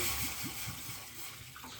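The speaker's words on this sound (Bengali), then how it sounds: "ওভেনে একটা পাত্র বসিয়ে দিলাম, দিচ্ছি 2 কাপ মতন জল" About two cups of water pour into a pot on a stove, heard as a faint run of quick splashes and gurgles, close by and without talk.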